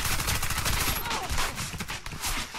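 Dense, continuous gunfire in the video game Warface crackles throughout, rapid overlapping shots forming a steady barrage that stays loud and close the whole time.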